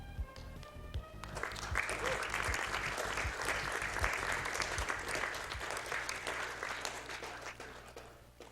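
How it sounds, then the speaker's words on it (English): Audience applause for a speedrunner at a live gaming marathon event, building quickly into dense, even clapping that continues at moderate level for several seconds before easing off. "one more round of applause for our runner, please"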